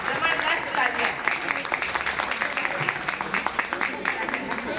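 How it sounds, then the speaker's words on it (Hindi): A crowd gives a warm round of applause for an award-winning teacher, many hands clapping in a dense, continuous patter at moderate volume, steady throughout with a faint voice beneath. "जबरदस्त जबरदस्त तालियां।"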